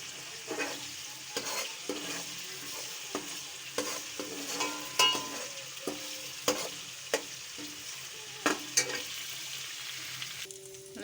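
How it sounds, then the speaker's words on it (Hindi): Ginger-garlic paste fries in ghee, giving a soft, steady sizzle broken by repeated scraping and clinking as a spoon stirs the pan every second or so. "इसको हल्का ब्राउन होने तक हम पकाएंगे।"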